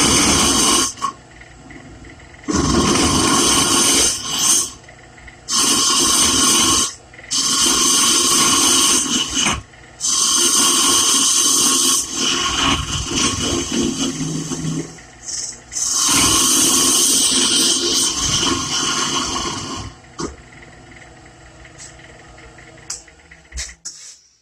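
A hollowing tool taking light cuts on wood spinning on a lathe, a loud rasping scrape in repeated bursts of a few seconds separated by short pauses, with no talk.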